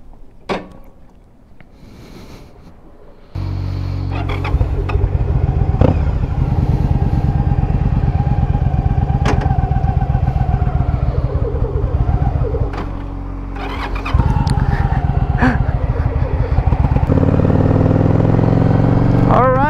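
Yamaha V-Star 1100 motorcycle engine starts after a quiet stretch, then runs loud and steady close by with a brief dip before picking back up.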